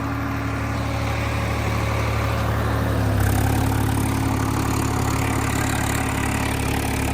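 A tractor engine running a rotavator at about 1500 RPM, a steady, close diesel drone with a low hum that deepens slightly partway through, with no talk.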